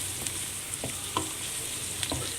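Tomatoes fry in a pan for a coriander chicken curry, giving a steady, bright sizzle throughout, with faint soft clicks as the mixture is stirred, close and without speech.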